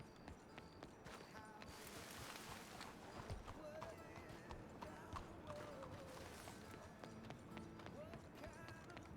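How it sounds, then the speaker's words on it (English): Rapid clip-clop of galloping horse hooves in a ranch roleplay game runs throughout, layered with game-style effects and background chatter, steady and moderately loud. "I'm gonna go grab my horse"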